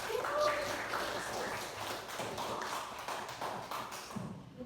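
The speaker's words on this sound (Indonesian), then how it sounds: "Tepuk tangan buat kita semua." Students in a classroom clap together for one another before group presentations, a steady patter of many hands, fairly faint and continuous.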